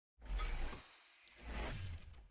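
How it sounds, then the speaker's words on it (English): A synthetic sci-fi injection sound from the game Space Station 14: a whoosh rises and fades, followed by a second swelling electronic swish, both fairly faint and alone. "AME has new injection sounds. Sounds a lot more sci-fi."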